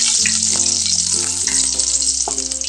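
Chopped ginger and garlic sizzling in hot coconut oil for an iron tamarind (irumbu puli) pickle, a bright continuous frying hiss heard close up over a steady tonal music bed.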